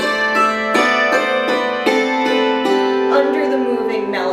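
Solo piano playing Bach's Jesu, Joy of Man's Desiring, a flowing melody over a steadily rising walking bass line, clear and close with evenly spaced struck notes and no speech.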